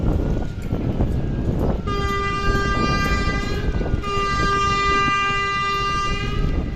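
Passenger launch ferry sounding a long, loud, steady whistle tone that holds for several seconds, with a brief pause and resumption, over rumbling engine and crowd noise.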